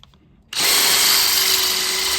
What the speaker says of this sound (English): Well, let's see if they will drill through anything.